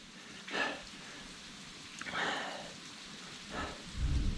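Steady rain hisses throughout on a mountain, with a few swelling rushes and a low rumble near the end, like a thunderstorm outside.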